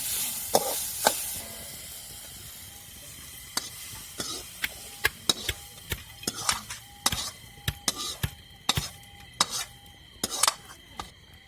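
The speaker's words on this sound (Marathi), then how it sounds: "ते पण चांगलं आपल्याला एकदम मस्त असं परतून घ्यायचं" Chilli, onion, coriander and tomato sautéing in a pan for a brinjal-potato bhaji, a steady sizzle broken by repeated sharp metallic clinks and scrapes of a spoon stirring against the pan, close and fairly loud, with no talking.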